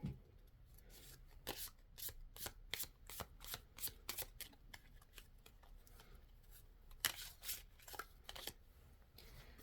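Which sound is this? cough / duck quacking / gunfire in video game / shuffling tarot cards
shuffling tarot cards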